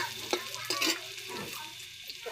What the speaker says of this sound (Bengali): এখানে দিয়ে দিলাম পেঁয়াজ, কেটে দিলাম এখানে হালকা তেলে।